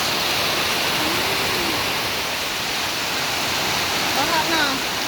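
A flash flood after sudden rain in hilly farmland roars as a loud, continuous rush of water, with faint voices briefly audible under the torrent.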